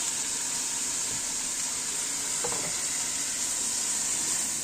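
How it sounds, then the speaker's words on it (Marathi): Broccoli frying in a pan, a steady loud sizzle with a faint stir or scrape partway through and no talking. "थोडंसं फ्राय करून घ्यायचं। ब्रॉकली बऱ्यापैकी फ्राय झालेला आहे।"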